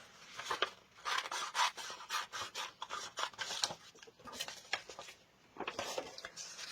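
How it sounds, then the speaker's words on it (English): Scissors snip through paper in quick, uneven bursts of crisp cuts with short pauses between, close and fairly quiet, as pictures are cut out for mixed-media work. "So I'm just going to cut these out and just see what I want to use."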